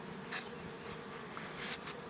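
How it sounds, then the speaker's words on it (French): Honeybees buzz near a hive, carrying off dead bees. Their close, steady drone is joined by a few brief louder passes. "Quand vous voyez les abeilles, comme celles qui sont là, qui essayent d'emporter les cadavres le plus loin possible"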